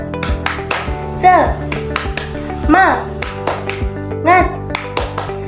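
An elementary-school classroom doing a tepuk semangat clapping chant, with sharp hand claps and snaps in an irregular rhythm and children's voices chanting along in several loud bursts.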